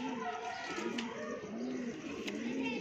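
Pigeons of a kabootar pair coo in repeated low, rolling phrases, close and fairly loud, with a few faint chirps mixed in.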